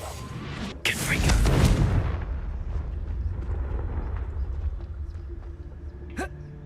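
A Confringo fire spell cast in Hogwarts Legacy, a sudden loud whooshing blast that swells and fades over about a second, followed by quieter game ambience and a brief later flare.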